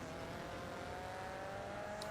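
Race car engine in the GRID 2 racing game drones steadily at high revs throughout, a loud continuous whine with a slowly rising tone and no speech.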